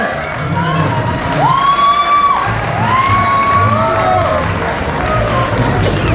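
A crowd at the AKCAF Ponnona Kazhcha 2022 Onam celebration in Dubai World Trade Center cheers and claps steadily for a children's dance, with whistles and raised voices over a dense, continuous hall roar.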